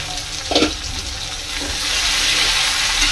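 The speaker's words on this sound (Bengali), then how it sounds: "একটু ভাজা হবে আলুটা" Potatoes sizzle steadily in hot oil, with a brief stirring scrape near the start and the frying growing a little louder toward the end.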